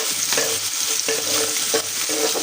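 Pieces of fish marinated in turmeric, salt and chili sizzling loudly in hot oil, the dense hiss broken by regular scraping stir strokes roughly every half second, no talking.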